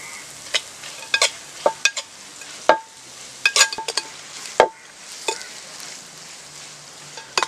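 Chicken curry ingredients being stirred and sautéed in a pot at a camp, with sharp irregular scrapes and clinks of a spoon over a soft sizzle, close by and with no voices.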